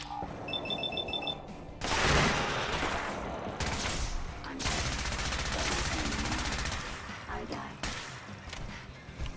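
A magazine emptied in Fallout 4 as rapid automatic gunfire rattles out in dense bursts, with game beeps at the start and a voice talking over parts of the shooting.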